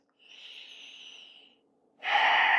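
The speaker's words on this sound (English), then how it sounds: "Take a deep breath." A slow, deep breath in, drawn softly and evenly through the nose, then a brief pause and a louder, breathy exhale close to the microphone.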